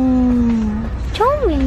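A human voice imitates a cat's meow, a couple of rising and falling mewing sounds, loud and close.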